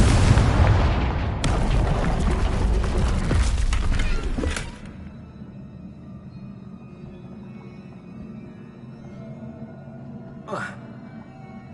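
A Confringo blasting spell explodes in Hogwarts Legacy with a loud, broad roaring blast that lasts several seconds, then drops to a quieter rumbling ambience with a brief flare near the end.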